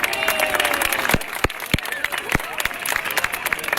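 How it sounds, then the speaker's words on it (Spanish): Live crowd applause for the Fanboy and Chum Chum characters at a Nickelodeon show, a loud busy clatter of many hands with sharp individual claps and some cheering in the mix. "Un fuerte aplauso para Fanboy y Cham Cham."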